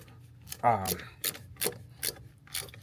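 A ratchet wrench with a 14 mm socket works tight nuts on a Jeep brake master cylinder, giving short, close ratcheting bursts at a steady, fairly regular rhythm.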